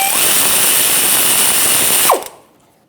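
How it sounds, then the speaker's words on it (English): A power tool spins a 15mm socket to remove the splash shield fasteners on a 1999-2006 Chevrolet Silverado 1500, a steady loud whir lasting about two seconds before it winds down and stops. "There's 4 fasteners holding it on, 2 up top, 2 down below. Use a 15mm socket,"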